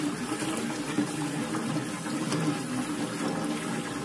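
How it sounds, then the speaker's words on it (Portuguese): Water poured into a large cooking pot, a steady gurgling splash of filling liquid at moderate volume throughout, close by. "No meu caldeirão, ó, eu coloco agora a água."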